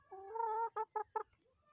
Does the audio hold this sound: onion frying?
no